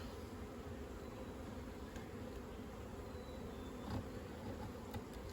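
Honeybees hum and buzz continuously in an opened, overwintered hive during an inspection, a dense, steady drone with faint individual bees flitting past, quiet and without talk.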